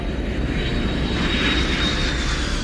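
A fixed-wing airplane roars with a loud, steady engine rush and broad hiss, a continuous close-sounding drone with no pauses and no voices.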